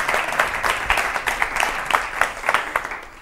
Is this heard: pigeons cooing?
no